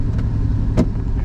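Engine of a 1986 Pontiac Fiero GT running steadily while rolling downhill, with a brief sharper burst of noise near the end as the brakes are applied; a continuous low rumble throughout, no talking.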